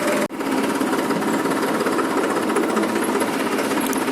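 Continuous rattling diesel tractor engine idling steadily, loud and close, heading out to the paddy fields for rice sowing, with a brief dip near the start and no talking.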